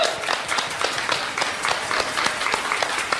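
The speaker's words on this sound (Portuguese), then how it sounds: "Pessoal, uma salva de palmas pra ele" A crowd in the cartoon Fudêncio e Seus Amigos gives a steady burst of applause for a boy, lasting about three seconds at an even, moderate loudness with no voices over it.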